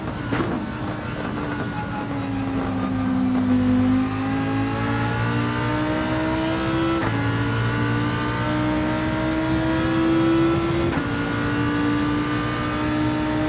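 Group 3 race cars lap Monza in a racing video game, their engines droning and rising through the gears with steady pitch sweeps and shifts, a close, continuous, fairly loud roar with no talk.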